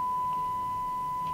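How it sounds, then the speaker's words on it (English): A steady, clean electronic tone plays from the earpiece receiver of a Samsung Galaxy S7 Edge during a hardware test, holding evenly for just over a second with faint room noise and no talk. "basically just plays like a dial tone."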